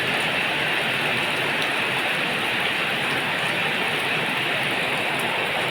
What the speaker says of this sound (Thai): บรรยากาศตอนฝนตกนะคะ